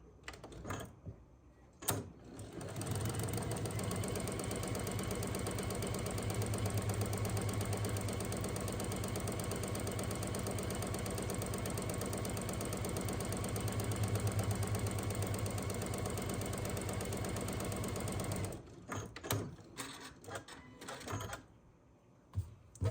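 A sewing machine runs a long steady quarter-inch seam down a log cabin quilt block, buzzing continuously and close for about fifteen seconds before stopping amid light handling clicks.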